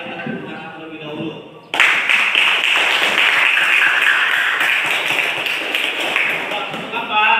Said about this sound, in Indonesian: mari kita tepuk tangan terlebih dahulu